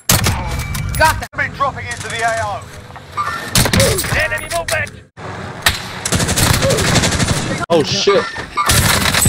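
Gunfire in Call of Duty Warzone Rebirth, with rapid bursts and sniper shots cracking loudly throughout under a voice and in-game radio chatter.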